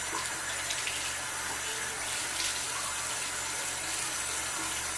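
Warm tap water runs steadily from a faucet into a sink while someone rinses their face, a continuous close splashing stream with no speech.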